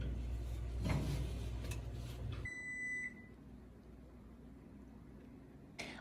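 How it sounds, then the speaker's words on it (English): One short electronic beep sounds faintly in the background, with low room noise around it and a soft knock near the end. "It's still beeping back there, hear it?"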